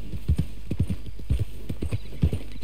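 Hooves of a horse in Red Dead Redemption II clop in a quick, even gait, nearby and distinct, with a faint low background drone beneath the beats.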